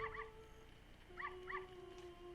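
Dogs roaming the night streets in Zelda: Ocarina of Time give several short, faint yips and barks in two small bursts, set against soft, steady game music and ambience.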